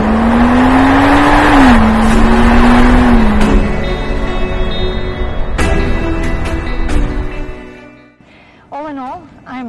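A powerful 600-horsepower V12 engine in a Mansory Rolls-Royce Cullinan SUV drones loudly with a steady rising and falling pitch while driving, road noise underneath, then dies down as a voice speaks.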